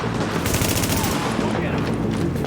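Heavy gunners fire in Tom Clancy's The Division, a dense burst of rapid automatic gunfire that rattles on without pause, loud and close, with voices faintly mixed in.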